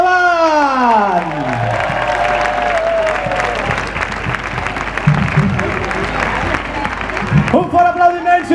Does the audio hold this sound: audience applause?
yes